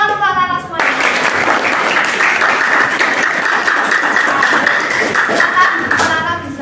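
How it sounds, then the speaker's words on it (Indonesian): A classroom of children clapping together in a dense, loud burst of applause that lasts several seconds, with a voice speaking briefly at the start and children's voices mixed in. "tepuk tangan untuk anak-anak semuanya"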